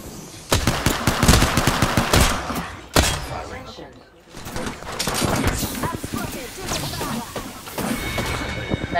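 Video game gunfire rattles in loud, rapid automatic bursts with sharp single shots, nearly continuous apart from a short lull midway, with a voice mixed in underneath.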